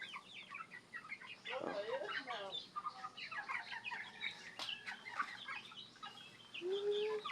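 Young Rhode Island Red chicks cluck and cheep in a busy, overlapping chatter nearby, with soft peeps scattered throughout and a faint voice in the background.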